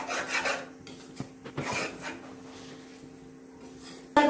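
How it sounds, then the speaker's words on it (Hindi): Maida flour is stirred and roasted in a pan over medium heat, making a steady dry scraping and rasping close by, with occasional louder strokes of the spoon. "देखिए हम भून रहे हैं इसको लगातार, हमको चलाकर भूनना है"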